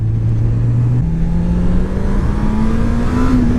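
A 2018 Honda CB1000R motorcycle engine revving on throttle, a loud close steady drone that climbs in pitch in distinct steps as the revs rise, with no talk over it.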